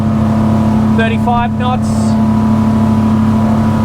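Twin engines of a Monterey 298 boat run hard at high speed, a loud, steady droning roar with constant water and wind rush, while a voice briefly calls out the speed over the noise.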